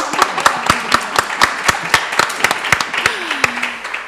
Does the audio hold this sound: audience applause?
yes